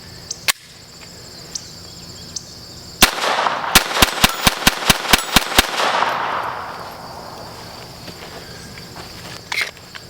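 A Glock 44 pistol fires Winchester rounds at an 8-inch target outdoors: a rapid string of about ten sharp, loud, close shots in roughly three seconds, with insects chirping in the background.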